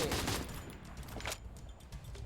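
Gunfire in the Free Fire video game: a quick burst of rapid shots up front, then scattered fainter pops in the background, with no talk over it.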